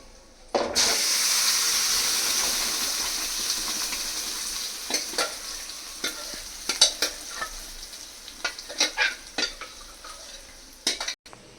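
Hot asafoetida tempering is poured into a pot of tamarind-leaf (puli keerai) rice, bursting into a loud, sustained sizzle with repeated scraping taps as it is stirred in.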